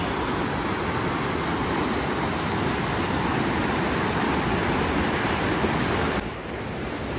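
Roaring water of Fukiware Falls, a broad waterfall along a rocky gorge in Gunma, Japan, a steady dense rushing noise heard close and loud, continuing unchanged before dipping slightly near the end.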